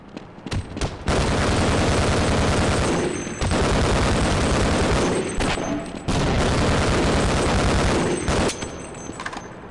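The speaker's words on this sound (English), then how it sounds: "So we're going to go with an SMG, or, well, actually just an MG" Sustained machine gun fire from the Half-Life video game, loud and dense in long bursts broken by brief pauses, with grenade-like booms mixed in.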